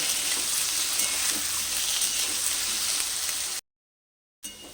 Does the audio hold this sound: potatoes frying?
yes